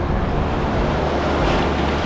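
Ocean surf on a Florida beach, a steady loud wash of breaking waves with broadband roar and some wind rumble across the microphone, continuous with no talk.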